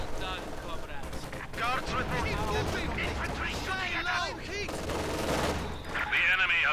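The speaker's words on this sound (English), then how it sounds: "Anti-tank gun barrage." Anti-tank gun barrage in the game Company of Heroes 2: a dense run of heavy overlapping shots and blasts, loud and continuous, with someone commentating over the top.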